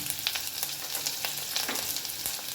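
Chopped garlic and grated ginger fry in a hot pan for chicken jahangiri, giving a close, steady crackling sizzle scattered with small pops, heard alone without talk.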